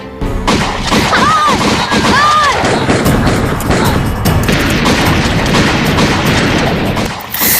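A loud, dense burst of explosive bangs and crashing impacts, like gunfire in a chaotic battle, with shouting voices and a couple of whistling tones early on, from a staged school Independence Day drama.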